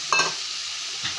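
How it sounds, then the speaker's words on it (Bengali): Pointed gourd (potol) tossed into a pan of cooked-down spice paste, giving a brief stir-fry sizzle at the start that settles into a steady hiss, with a second short stir near the end. "পটলটা এখন সম্বাস দিয়ে দেবো, মশলা দিয়ে ফ্রাই করে দেবো"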